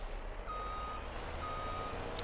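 A truck in Farming Simulator 22 gives a steady series of electronic reversing beeps, evenly spaced and clear over a low engine rumble, with no talking.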